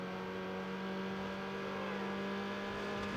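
Tuned car engine in Need for Speed Underground holding a steady, buzzing rev with a strong constant drone throughout, loud and unbroken.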